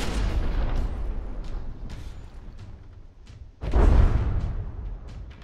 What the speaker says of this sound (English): Oh, another direct high explosive hit, shearing off a bunch of barrel.